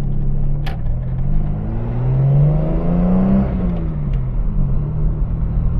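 A Leyland Marina fitted with a six-cylinder engine revs while being driven, a steady loud rumble rising and falling in pitch through the gears, close and continuous with no talk.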